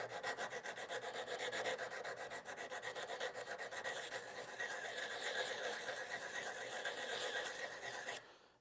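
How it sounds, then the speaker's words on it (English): Steady rasping scrape of a sanding block with 120-grit sandpaper worked back and forth over a wood blank, continuous and close, stopping abruptly at the end. "I'm just going to use a sanding block with some 120 grit sandpaper."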